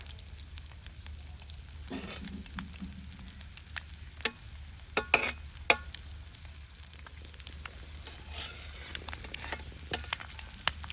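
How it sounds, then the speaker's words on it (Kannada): Egg tawa masala frying on a tawa over a low flame, a quiet steady sizzle with scattered scrapes and taps of a spatula, a few sharper clatters in the middle. "ಎರಡು ಸೈಡ್ ಕೂಡ ಇದನ್ನ ಫ್ರೈ ಮಾಡುವ."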